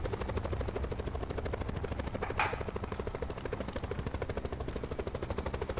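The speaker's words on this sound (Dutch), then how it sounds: "ik heb een heli met machine guns." A helicopter fitted with machine guns in the battle royale mode Blackout of Call of Duty Black Ops 4, its steady, rapid rotor chop thudding loudly throughout with a brief sharper burst midway.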